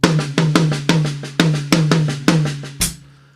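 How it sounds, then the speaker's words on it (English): A drum paradiddle played with the right-hand strokes accented and the left strokes softer: a steady run of sharp, close stick hits with evenly spaced loud accents, then a final crash that rings out and decays. "we're going to try and give the right side of this paradiddle just a little more muscle"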